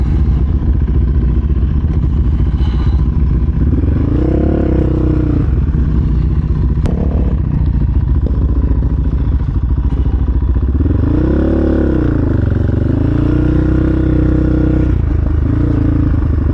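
Several Yamaha Raptor 700 ATVs roaring on a country ride, a loud steady engine drone with two rising and falling revs as machines accelerate and pass nearby.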